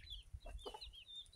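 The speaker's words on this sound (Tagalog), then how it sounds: "Sisiw." Chicks on a farm give faint, high peeping chirps, a few short calls scattered over a quiet moment with low rustling and the soft clucking of a hen nearby.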